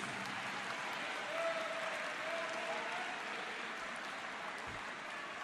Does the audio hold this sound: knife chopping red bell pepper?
no